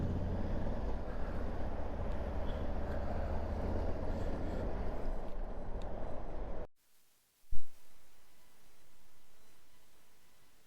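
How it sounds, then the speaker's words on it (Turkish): Heavy road noise from a truck in city traffic on the Bodrum–Fethiye route, a steady loud broadband rumble that cuts off abruptly partway, followed by a short thump and quieter ambience. "Bu kamyonun bu şehir içinde ne işi var arkadaş?"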